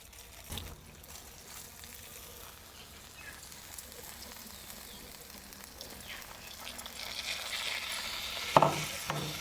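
Rice, lentils and ghee roast in a pan with a faint, continuous sizzle and occasional soft scrapes, building slightly louder toward the end with one sharper clack.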